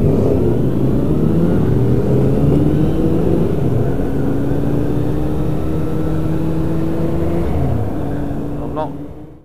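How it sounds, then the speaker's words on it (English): Ducati motorcycle engine revving nearby during a group ride to Matlock Bath, a loud steady drone with rising and falling pitch sweeps that fades out at the end, heard alongside other engines. "That's a Ducati."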